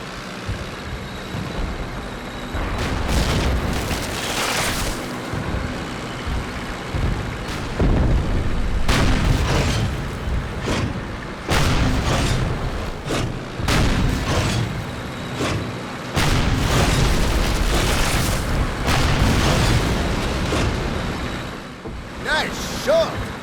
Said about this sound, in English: We're in a tank, everything's blowing up.